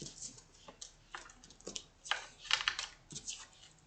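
Tarot cards are flipped and laid down on a table, producing a series of light, close taps and soft slaps at an uneven pace with brief papery swishes between them.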